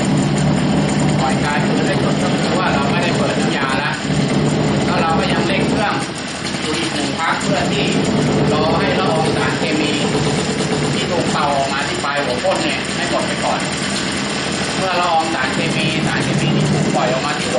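A ULV fogging sprayer engine runs steadily as a loud, continuous drone, with someone talking over it throughout.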